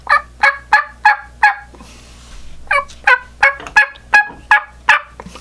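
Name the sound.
turkey call imitating soft tree yelps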